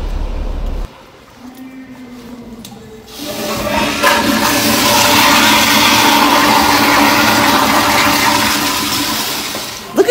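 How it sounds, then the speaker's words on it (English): A public restroom toilet flushes with a loud, close whoosh that surges after a brief quiet and a click, then roars steadily with rushing water for several seconds. "make sure you flush the toilet like this"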